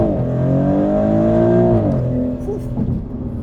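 A brand-new Maserati GranTurismo Trofeo floored in sport mode, its engine pitch climbing steadily and loud from inside the cabin before easing off at a shift, with someone talking over it.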